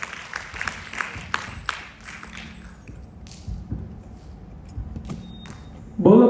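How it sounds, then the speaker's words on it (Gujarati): Clapping from an audience at a students' Teacher's Day gathering, a dense burst of claps over the first few seconds that thins into a murmuring room with scattered taps and a loud thump at the end. "એમના માટે જોરદાર તાળીઓ થઈ જશે."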